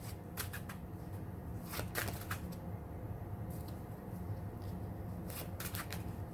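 Tarot cards being shuffled by hand, a continuous close papery rustle broken by repeated crisp riffling bursts that come in quick clusters, with no talking.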